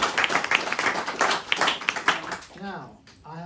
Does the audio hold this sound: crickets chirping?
no